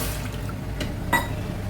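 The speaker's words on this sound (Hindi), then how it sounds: "कढ़ाई में हम इस कप के मेजरमेंट से पूरा 1 कप पानी डालेंगे" A cup of water poured into a wok in a home kitchen, producing a brief, close splashing fill.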